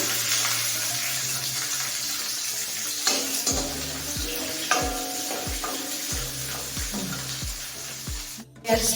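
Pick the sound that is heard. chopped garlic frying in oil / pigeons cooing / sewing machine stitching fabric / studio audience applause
chopped garlic frying in oil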